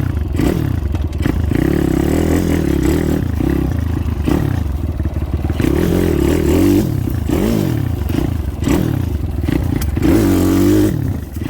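A motorcycle engine runs at an abandoned property, loud and close, its roaring note rising and falling repeatedly as the throttle is worked, with some rattling clatter underneath.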